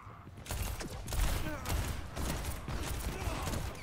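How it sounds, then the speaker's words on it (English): Gunfire in Overwatch 2 during a fight with Cassidy, a steady rapid stream of shots and impacts running through the whole moment, fairly loud and busy with game effects. "okay, they're shooting at me."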